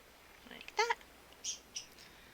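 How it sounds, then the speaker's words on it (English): A small bird gives a few faint, high chirping calls in a quiet room, one bright trilled note followed by two shorter squeaks spaced apart. "Oh my god, the best bird noise ever."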